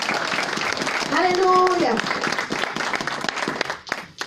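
Church congregation applauding at a Spanish-language service, a dense, sustained wash of clapping with a speaker's amplified voice and shouts over it.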